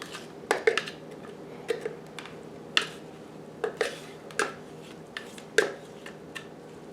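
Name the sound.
chopping cucumbers with a food chopper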